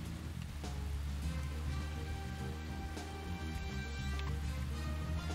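Steady rain falls in the video game Deadly Premonition, a continuous even hiss of drops over a low ambient game soundscape with a faint tonal music bed, running unbroken throughout.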